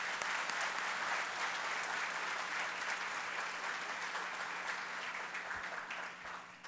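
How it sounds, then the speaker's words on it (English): Steady applause from a banquet audience at an award dinner, honoring sponsors; a dense, fairly faint crowd of clapping hands that carries on evenly and tapers near the end. "Won't you all join me in giving our sponsors a round of applause?"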